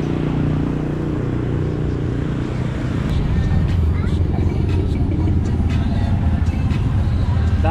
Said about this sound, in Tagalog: Dami palang tricycle dito sa Pampanga.